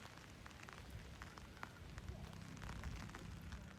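Morning rain falls steadily, a soft continuous patter with scattered drops landing on a surface, fairly quiet and alone throughout.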